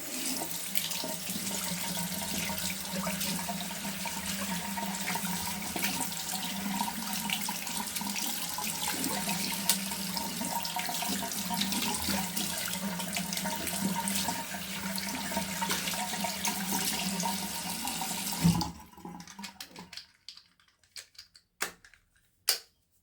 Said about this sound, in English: And it is very easy to clean under the water, just remove the heads.